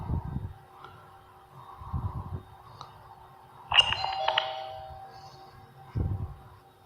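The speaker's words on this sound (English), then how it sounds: "Okay, Ben, why don't you come up to the doorbell and ring it?" A Skybell video doorbell rings once with a bright, ringing chime that sustains and fades, with dull low thumps before and after it and no talk.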